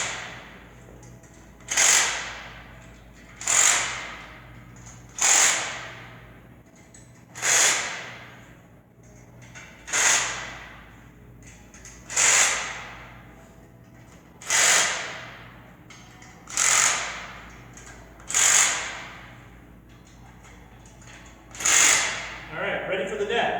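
A power tool tightens the leg bolts of a Springfree O77 8x11 trampoline in about ten evenly spaced short whirring bursts, each rising and fading, loud and close.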